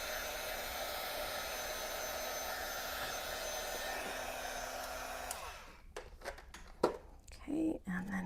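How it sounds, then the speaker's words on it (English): A heat gun drying and flattening a paper collage gives a steady, loud blowing whir for about five seconds, then cuts off as a person begins talking. "I'm going to just kind of heat gun it a bit."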